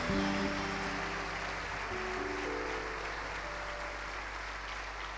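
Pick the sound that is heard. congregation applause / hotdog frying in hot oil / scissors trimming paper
congregation applause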